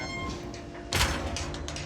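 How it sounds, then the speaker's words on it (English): A door in a modern house slides and shuts with one solid thud midway, followed by brief rattling knocks, against a faint background hum. "Close the door down."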